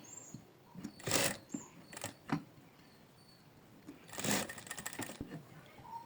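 A home sewing machine stitches a fabric strawberry bunny in short, quiet bursts of rapid needle chatter with pauses between, ending in a longer, steadier run.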